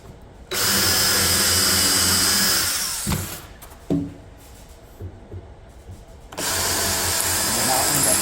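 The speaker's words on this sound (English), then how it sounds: "we'll be able to come from above and screw down with 3-inch screws" A power drill whines steadily while driving 3-inch screws into wood on a passive solar heater build, with clunks and handling noises in a quieter gap before the drill runs again.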